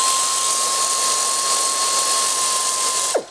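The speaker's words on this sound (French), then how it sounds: "Deux clés à choc, une grosse et une petite pour passer partout." Pneumatic impact wrench whining at a high steady pitch while loosening bolts during a timing belt job on a Volkswagen Scirocco 2.0 TDI 140 hp, with a brief falling tone as it spins down at the end.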